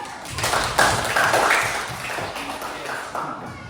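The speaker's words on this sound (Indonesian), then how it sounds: "Tepuk tangan dulu." A seminar audience claps on request, a broad wash of hand claps rising quickly and sustained for several seconds at moderate loudness, with a few brighter taps standing out near the start.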